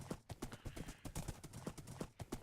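Horse hooves clip-clop in a rapid, steady galloping rhythm in the modded Minecraft pack GregTech New Horizons, a close, continuous patter of hoofbeats with no talking.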